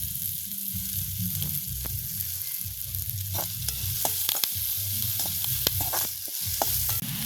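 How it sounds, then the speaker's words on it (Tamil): Papaya curry sautés with curry leaves in a hot pan, giving a steady close sizzle broken by frequent sharp scrapes and clicks as a spoon stirs. No one speaks. "நல்ல ஒரு வாசம் பெறுது எல்லாம் சேர்ந்து வதங்க இப்படியே நாங்கள் கறிவேப்பிலையும் போடுவோம்"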